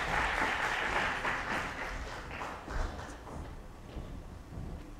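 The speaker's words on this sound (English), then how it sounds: "Let's give her a round of applause." An audience applauds to welcome a keynote speaker at an international education lecture, steady clapping from a seated crowd that slowly thins and fades.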